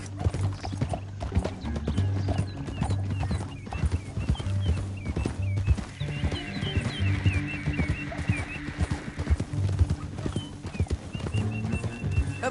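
Rapid hoofbeats of horses galloping in Red Dead Redemption 2, a dense rhythmic clatter with a whinny partway through and other scattered noises over it.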